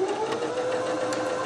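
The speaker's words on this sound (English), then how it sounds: "back stitching to begin with." Sewing machine running a steady rapid stitch while back stitching a quarter-inch seam on a fabric tote bag, a close, continuous whirring hum with a fast mechanical tapping rhythm.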